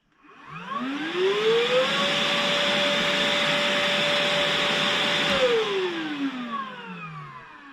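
A Hychika cordless wet and dry shop vacuum motor spins up with a rising whine, runs at a loud steady roar for several seconds, then winds down as the pitch falls.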